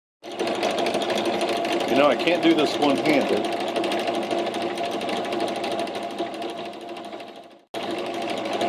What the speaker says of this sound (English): I think we'll do that on the drill press.